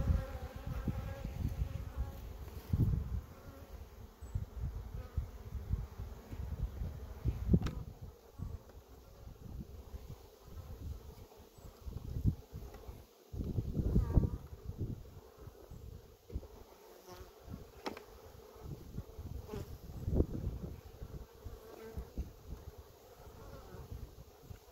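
Honeybees buzz steadily in an opened double nuc hive, a close, continuous droning hum with swells as bees pass near and some light wind buffeting.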